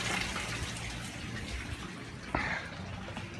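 Water driven by a 1,200 gallon pump pours steadily into a fish tank in an aquaponics setup, a constant close rushing and splashing with a brief gush partway through.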